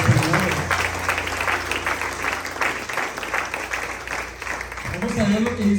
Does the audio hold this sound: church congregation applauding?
yes